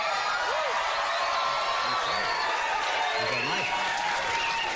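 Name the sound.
studio audience applauding and cheering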